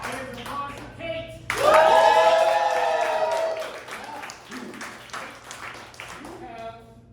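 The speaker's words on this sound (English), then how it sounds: "Audience applause for Kate." Audience applause for Kate, a contestant at a live comedy pun competition, bursts in loud and sustained for about two seconds amid cheering voices, then fades into scattered claps under crowd noise.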